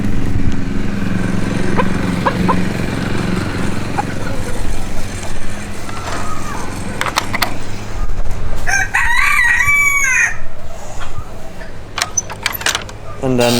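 A rooster crows once loudly and close, its drawn-out call rising over a busy aviary backdrop of clucking fowl, jangling metal and a distant engine hum, with someone talking nearby.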